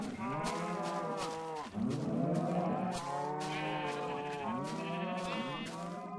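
Cattle mooing in farm cow sheds, several long, overlapping low moos and bleat-like calls that rise and fall continuously and close up, with no talking.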